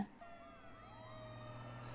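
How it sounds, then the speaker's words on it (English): A fire engine siren wails steadily with rising and falling harmonic sweeps, loud and continuous over a low rumble, with no talk. "Fire engine."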